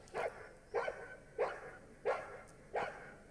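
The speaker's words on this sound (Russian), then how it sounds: "После контратаки собака активна," Five sharp dog barks at an even pace, each about 0.7 s apart, fairly close and alone, from a working dog in the active guarding phase after a counterattack during protection training.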